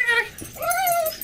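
A dog in the game Mirror's Edge Catalyst lets out a short, high whimpering whine lasting about a second, close and clear, over faint background game sound.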